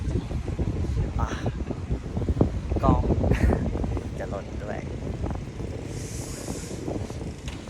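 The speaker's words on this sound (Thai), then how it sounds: "ลมแรงมากเลยครับ" Strong wind buffets the microphone while riding a GPX Tuscany 150 motorcycle on a cold trip to Mae Sai, making a constant loud rushing roar as someone talks throughout.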